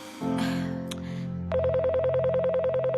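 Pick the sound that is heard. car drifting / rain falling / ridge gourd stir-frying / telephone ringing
telephone ringing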